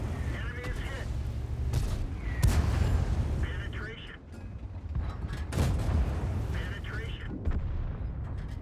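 Tank cannon shots boom in the World of Tanks video game, a few heavy blasts spaced several seconds apart over muffled battle noise and engine rumble, fairly faint overall, with someone talking between the shots.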